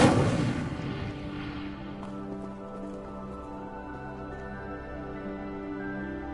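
An Incendio fire spell is cast at a pyre in the Hogwarts Legacy video game, opening with a sharp, bright burst that fades over about two seconds into a soft, sustained tonal backdrop.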